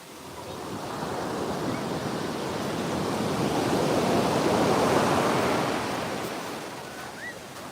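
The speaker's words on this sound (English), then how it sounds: "The sound of the water in the shells is different than the sound of the water in the sand." Steady washing of surf swells and fades, a broad hiss of water rushing over a shelly beach at Playa Conchal, close by with no voices.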